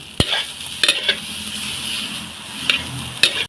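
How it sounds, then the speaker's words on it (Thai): Fried rice is stir-fried in a hot pan, a steady sizzle broken by sharp spatula scrapes and clanks at irregular intervals, loud and close. "ข้าวผัดต้องผัดนานๆจ้ะข้าวผัดต้องผัดนาน"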